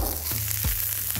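Spring onion sautéing in oil in an iron pot, a steady, close sizzle and crackle with a few soft stirring scrapes, continuous and fairly loud.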